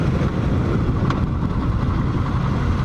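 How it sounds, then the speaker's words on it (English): A 1980 Yamaha XS850 Special motorcycle engine idles at a stop sign, a steady, loud, continuous rumble with low-end road and wind noise throughout and no talking. "Rolling up to a stop sign, we're just idling."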